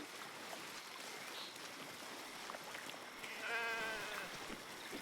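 A sheep in Baldur's Gate 3 lets out one wavering bleat, fairly clear over a low ambient wash of game sound with a soft stream-like hiss.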